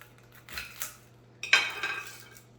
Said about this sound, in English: So I slice the onion up